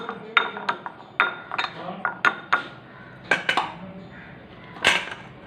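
A spoon stirs a homemade Frooti-style drink mixture in a glass, giving irregular bright clinks and taps against the glass, fairly close and fairly quiet, with gaps between strokes.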